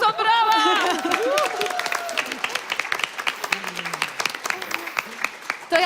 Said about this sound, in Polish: tu są brawa!